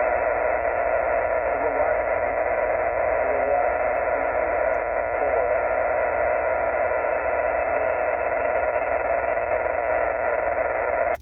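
Faint amateur radio voice calling through a thick, steady hiss of static at a state park activation, the signal sinking beneath the noise for the full stretch.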